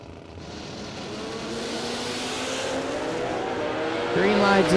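At a drag strip event, a Camaro and a motorcycle sit on the line with engines running under an announcer's voice, the noise swelling gradually before a sharper, louder rise at the very end as they launch.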